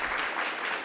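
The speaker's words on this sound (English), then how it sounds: "How about a big round of applause for those that are here for them?" Audience clapping for panelists at a suicide-prevention talk, a brief continuous burst of many hands, steady and fairly close.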